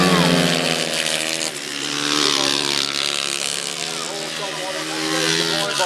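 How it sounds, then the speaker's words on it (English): 500cc solo motorcycles race on a grasstrack, their engines roaring loudly and steadily throughout, with a commentator talking over the bikes. "He saw Richard Hall go wide and just turned the bike inside him"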